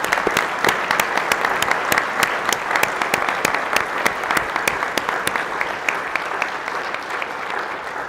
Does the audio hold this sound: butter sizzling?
no